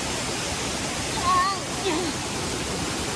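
Steady rushing water of a mountain stream in Lower Mustang fills the clip, a broad continuous flow close by, with a faint whistle-like tone drifting briefly over it.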